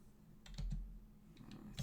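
A few soft, close key taps on a computer keyboard's numeric keypad, scattered clicks with short gaps against quiet background hiss.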